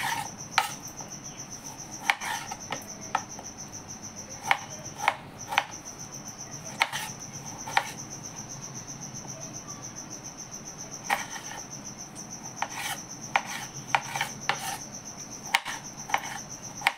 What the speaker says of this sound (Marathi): एक टोमॅटो चिरून घेऊ.